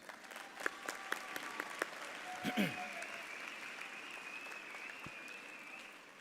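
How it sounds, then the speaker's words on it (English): Steady applause fills a commencement ceremony audience, a broad even wash of clapping holding throughout with a few sharper claps and faint sounds on top. "please join me in giving him another round of applause"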